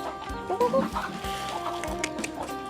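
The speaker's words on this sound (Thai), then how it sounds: "ทุกตัวที่เห็นอยู่ตรงนี้คือจะเป็น พ่อพันธุ์แม่พันธุ์ของไก่นะคะ" Breeding roosters and hens on a small chicken farm clucking close by, a busy mix of short repeated clucks and squawks from several birds, with brief crowing notes mixed in.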